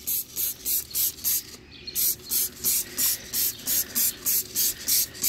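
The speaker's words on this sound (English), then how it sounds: "you want to spray degreaser on your engine and all your components" Rapid, evenly spaced bursts of spray hiss repeat about a dozen times in quick rhythm, close and loud, as a trigger sprayer applies degreaser in a C6 Corvette engine bay.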